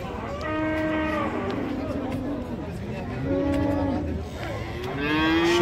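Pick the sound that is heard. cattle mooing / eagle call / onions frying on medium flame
cattle mooing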